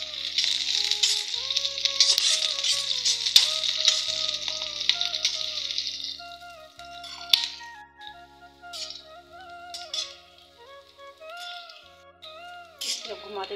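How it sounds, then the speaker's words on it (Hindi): Onions sizzle loudly in a frying pan while being stirred, with a rattling scrape of the utensil. The frying fades partway through as someone talks over it. "अच्छे से इसको इसे घुमाएंगे जब तक प्याज पक ना जाए।"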